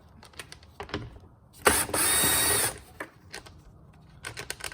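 A battery-powered 3/8 ratchet spins off a 5/16 nut on an Acura TL air filter housing in one loud, steady whirring burst of about a second, between quieter handling clicks and taps.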